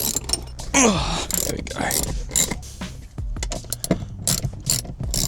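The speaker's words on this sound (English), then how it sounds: "I think the hardest part about this is just lifting up the carpet and the sound deadening to get your little ratchet in there" A small hand ratchet clicks in quick bursts while undoing bolts on Adventure Kings modular drawer rails inside a vehicle, with metallic creaks and knocks between, close and fairly loud, and a brief spoken remark partway.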